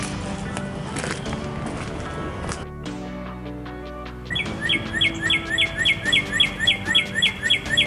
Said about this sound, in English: It's a red bird right above me. Cardinal talking up a storm.